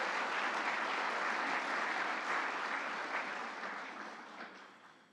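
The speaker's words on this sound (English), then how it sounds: "So if we could give them all a quick applause" Audience clapping for staff at the 2022 White House Tribal Nations Summit: a full, even wash of applause from a large room that holds steady, then gradually tapers off toward the end.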